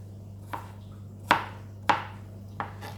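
A knife chops ginger into tiny pieces on a board, making four sharp, distinct thunks at uneven intervals, close and clear against a quiet background hum.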